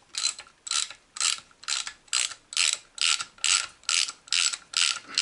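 A T30 Torx bit is ratcheted to open a BMW 5 Series F11 air suspension cylinder, giving about eleven evenly spaced, close metallic clicking bursts in a steady back-and-forth rhythm.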